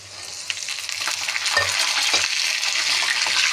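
Peanuts and green chillies frying in oil on a low flame for lemon pulihora, a loud, steady close sizzle that swells slightly, broken by a few scraping stirs of a spatula.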